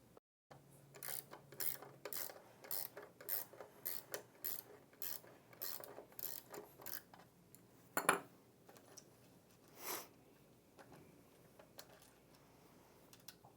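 A ratcheting wrench loosens a half-inch jam nut on the transfer roller belt assembly of an ATLAS machine, a series of crisp, close clicks in quick bursts followed by a few louder metallic clanks.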